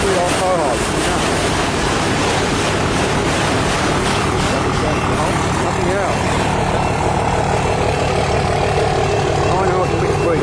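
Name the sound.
CN 382 northbound freight train passing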